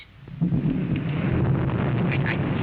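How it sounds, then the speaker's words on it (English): A low, continuous rumble of thunder in a radio drama, like distant rolling thunder, broad and steady for a couple of seconds, with no talking. "that noise you just heard with the thunder"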